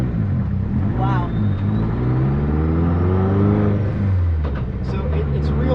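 A 517whp VW Bug engine revs and rumbles steadily while the car drives, pitch sweeping up under acceleration, loud and close throughout with a whir on top.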